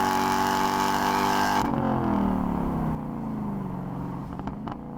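A Lexus LS400 sedan at high speed on the Nürburgring, engine droning loudly before dropping away as the car lifts off, leaving quieter road and wind noise.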